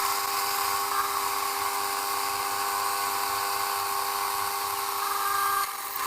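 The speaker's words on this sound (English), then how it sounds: "Now we are going to drill in these strip." A high-pitched, steady whine of a drill boring into a metal strip runs continuously and loudly, with a slight drop near the end and no talking.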